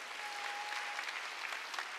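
A church congregation applauds during a Sunday worship service, a dense steady clapping that sounds somewhat distant and fills the whole moment.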